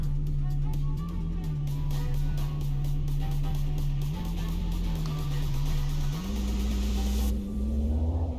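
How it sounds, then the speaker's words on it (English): A car engine in the driving game Mon Bazou runs with a steady, droning hum, its pitch stepping up as it accelerates, loud and close throughout. "this car is a little bit noisy even with the exhaust into it"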